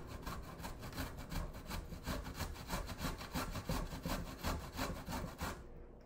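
Fresh ginger is grated on a grater in quick, rhythmic rasping strokes, a fairly quiet back-and-forth scraping that continues without pause and stops abruptly at the end.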